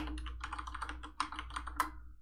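Rapid typing on a computer keyboard, close and clear, a dense run of key clicks with a brief pause midway before a final burst.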